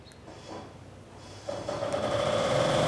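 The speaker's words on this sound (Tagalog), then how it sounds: "Umandar na yung ating generator." A 10 kVA generator engine starts up and settles into a steady running drone with a tonal hum, growing louder after a quiet lead-in and continuing alone without talk.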